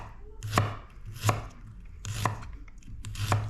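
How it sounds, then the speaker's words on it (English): Knife slicing fresh ginger thinly on a cutting board, four crisp chops spaced roughly evenly about a second apart, close and moderately loud, with no talking. "Thinly slice."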